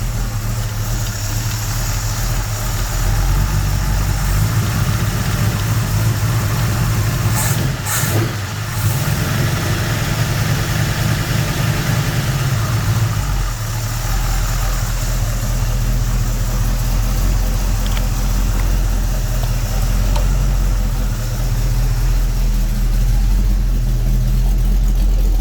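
A Ford XB Coupe's engine idles steadily and fairly quietly for the whole stretch, a constant low rumble with slight variations and no voices, on a cold morning.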